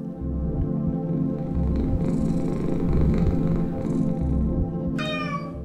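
A cat in the video game Lone Survivor purrs in a low, pulsing rhythm close up, with a high-pitched meow breaking in at the very end.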